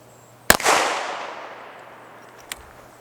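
A single sharp, loud report from a revolver firing a .44 Special round, followed by a long echoing decay, then a much fainter crack a couple of seconds later.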